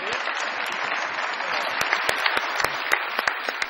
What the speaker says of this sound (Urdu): بہت ساری تالیوں میں ویلکم کیجیے گا